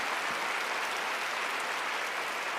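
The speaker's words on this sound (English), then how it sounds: "Can we just please give them an incredible round of applause for joining us today?" A luncheon audience at a women's leadership celebration in Chicago applauds, a steady, dense wash of many hands clapping together that holds evenly throughout without any talk.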